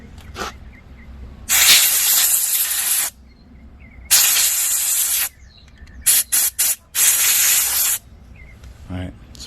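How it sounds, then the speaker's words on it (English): Compressed air sprays a cleaned 2-stroke carburetor part in several loud, close hissing blasts, two long ones and then a quick run of short bursts, with brief gaps between. "you want to spray this off with a little air also"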